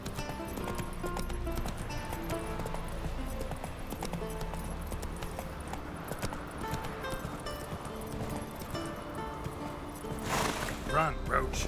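Roach, a horse in The Witcher 3: Wild Hunt, gallops in a steady clip-clop rhythm beneath game music and ambience, with a louder burst of movement near the end.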